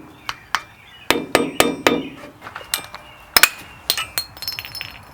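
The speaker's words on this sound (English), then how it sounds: "Might have to take a hammer." A series of sharp metallic taps and clinks, some in quick bursts and others spaced apart, like a hammer striking a metal part up close.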